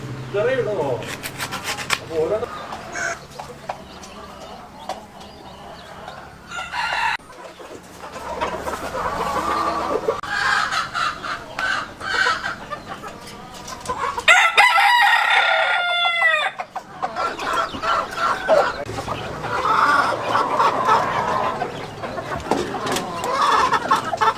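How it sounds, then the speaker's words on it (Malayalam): Native crested chickens cluck and cackle close by throughout, and a rooster gives a loud crow midway. Voices talk intermittently over the flock, along with some rubbing and handling noise. "നാടൻ തൊപ്പിക്കോഴി അല്ലേ എന്താണ് ഇതിന്റെ പ്രത്യേകത ഇതിനാ തൊപ്പി ഒരു പ്രത്യേകതയാണ്"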